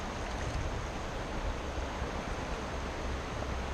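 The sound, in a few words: water dumped out of a gold pan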